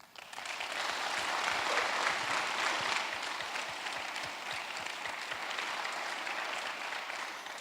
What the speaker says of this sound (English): a round of applause, please, for them tonight again